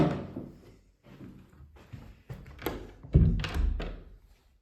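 A household door that used to stick, now planed down so it closes easily, swings shut with a soft thunk and a low wooden knock, near and fairly quiet, among a few other handling bumps.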